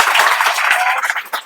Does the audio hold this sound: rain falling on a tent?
no